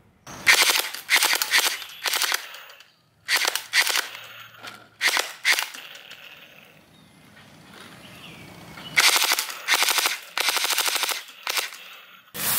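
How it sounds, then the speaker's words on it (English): Toy AK47 gel blaster assault rifle firing in several rapid bursts of sharp crackling shots, separated by short pauses and a quieter stretch in the middle. "AK47 gel blaster gun."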